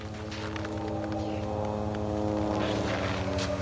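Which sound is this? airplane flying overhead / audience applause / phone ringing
airplane flying overhead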